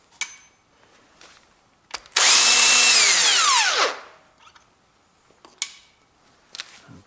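A power driver spins out a long bolt from an engine oil pump on a Ford Duratec engine, one loud sustained whir of about two seconds winding down, framed by scattered metallic clicks and taps before and after.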